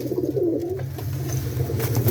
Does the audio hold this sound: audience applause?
no